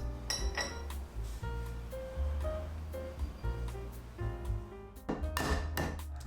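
A utensil stirs flour, baking powder and salt in a bowl, scraping and clinking against the sides in quick irregular strokes, with a louder burst of clatter near the end.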